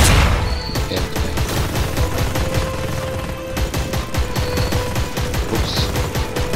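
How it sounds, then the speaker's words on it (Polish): Gunfire and explosions in the game Shards of War, a dense run of rapid shots with a deep boom underneath, with a grenade blast among the loud, continuous battle noise. "Granat."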